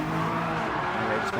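A GR3 race car in Gran Turismo 7 at Tokyo Expressway squeals its tires as it spins out, a sustained skidding whine over a steady engine drone, moderately loud and continuous.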